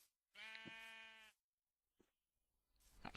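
A single drawn-out, wavering bleat from a Minecraft sheep sounds clearly for about a second, then quiet follows with a tiny click and some rising noise at the end.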